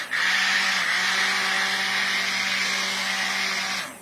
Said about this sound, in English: Before I start blending, I'm just going to gently stir it in around first